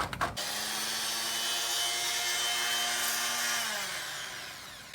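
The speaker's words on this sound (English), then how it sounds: "And then I'm going to start cutting the baseboard in line straight." A power saw cuts a straight line through baseboard along a stud in a finished basement, a loud, steady whining buzz that starts abruptly, then winds down and stops near the end.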